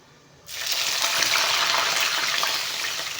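Water is poured into a hot pan before adding semolina, hitting with a sudden loud hiss, then a steady, dense sizzle that carries on and fades slightly.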